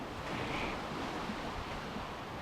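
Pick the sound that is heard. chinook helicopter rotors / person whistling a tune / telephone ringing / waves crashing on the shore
waves crashing on the shore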